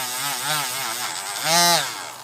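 A polishing tool for custom Hot Wheels cars spins up to full speed, its loud whining motor rising in pitch and swelling near the end of the short burst, close and alone.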